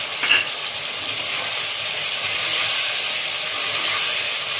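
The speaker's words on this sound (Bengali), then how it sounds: "এবার একটু কষিয়ে নিচ্ছি" Ground spice pastes of turmeric, cumin, coriander and ginger frying in a pan for a fish curry with taro, giving a continuous close sizzle and hiss that swells slightly, with no voices.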